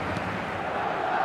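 Stadium crowd noise in the eFootball video game: a steady, dense roar from a large crowd, continuous and fairly loud with no distinct individual sounds.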